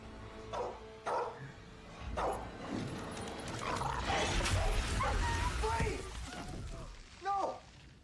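A dog barks in short bursts within a TV drama scene, the barks mixed with speech, music and background sound, loudest near the start and again toward the end.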